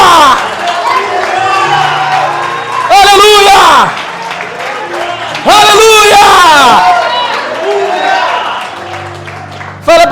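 Church congregation clapping and cheering in bursts during worship, loud crowd swells with shouts of praise over lively voices and a preacher calling out.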